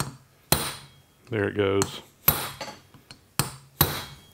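A hammer hits a steel punch set into a Wilton vise during disassembly, giving four or five sharp, ringing metallic strikes spaced about a second apart. Someone speaks briefly between the blows.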